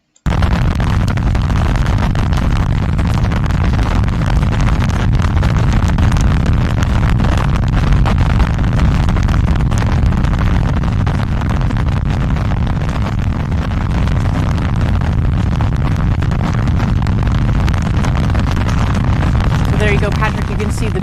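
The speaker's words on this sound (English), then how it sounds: "You can see the BE-4 engine testing." A BE-4 rocket engine roars through a test firing at a test cell, a loud, continuous broadband rumble held steady for about twenty seconds with a crackling, bursting texture.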